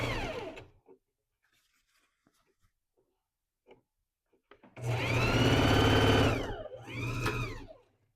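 A sewing machine stitching a seam on fabric for a machine cover, running in a loud, steady buzzing burst of about two seconds, then a shorter second burst, close up after a quiet pause.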